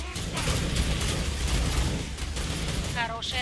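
Gunfire in a multiplayer shooter video game, dense bursts of shots running continuously under game music and effects, with voices talking over the action.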